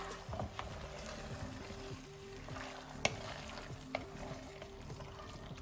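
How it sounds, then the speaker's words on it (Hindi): Chicken chops mixture being stirred in a pan, a soft continuous sizzle with occasional spoon scrapes and light clinks, fairly faint and without talk. "बस अच्छे से मिक्स करना है इसको"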